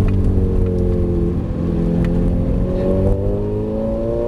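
A Ferrari accelerates on a track during a driving course, its engine a loud steady roar with rising harmonic tones as it gains speed, heard close from inside the car.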